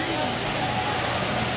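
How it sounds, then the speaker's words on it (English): A small waterfall on the Las Vegas Strip gives a steady, broadband rush of falling water close by, mixed with street crowd babble and voices talking over it. "Nice waterfall."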